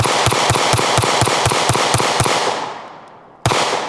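Pistol rounds fired in rapid succession, about ten sharp close shots in a steady rhythm, then a short pause as the echo dies away and one more shot at the end.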